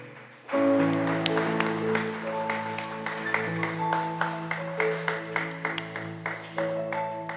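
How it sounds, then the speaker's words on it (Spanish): Church congregation claps loudly together during a Sunday service, steady dense applause with sharp individual claps over a sustained organ or keyboard chord, continuing for several seconds. "Ofrézcale fuertes palmas."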